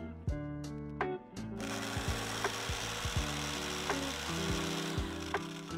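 Rhythmic saw strokes in a dark video game scene, repeated rasping cuts over a steady game music bed, each stroke distinct and fairly close.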